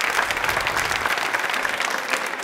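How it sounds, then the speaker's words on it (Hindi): An audience applauds during a special televised quiz on Birsa Munda's birth anniversary and Janjatiya Gaurav Divas, a steady, dense wash of clapping that stays loud throughout. "तालियां एक बार हो जाए उनके लिए।"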